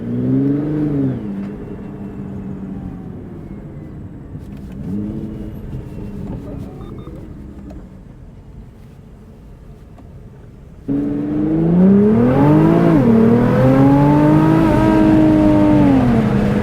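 From inside a Nissan GT-R R35 on bumpy backroads, the engine hums and rumbles through gentle rev changes, then surges into a loud, rising acceleration roar with quick shifts.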